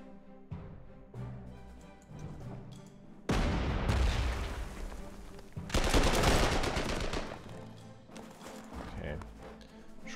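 Artillery fire in the wartime strategy game Panzer Corps 2, set in the 1939 Warndt woods: a sudden heavy roar of blasts near the middle, then a second loud volley, over quieter game effects and a talking voice.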